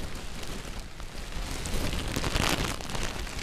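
Rain falling steadily outdoors, a dense, close patter and hiss of drops on surfaces that swells slightly louder toward the middle and stays continuous throughout.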